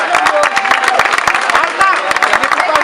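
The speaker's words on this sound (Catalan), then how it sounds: "Fort aplaudiment!" Audience applause at a prize-giving draw, with dense, steady clapping from a crowd close by, mixed with babble and shouts.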